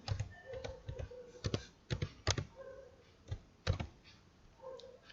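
Keys clack on a computer keyboard while text is entered into an Excel spreadsheet, an irregular burst of close, crisp keystrokes with short pauses between them, fairly quiet and with no talk.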